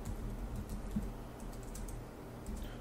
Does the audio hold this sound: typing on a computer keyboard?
yes